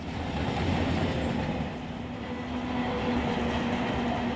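Steady rolling rumble and rail noise from a freight train in the Run8 train simulator game, a continuous loud drone with faint clatter and a high whine, no voices.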